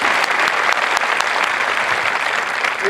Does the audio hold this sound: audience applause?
yes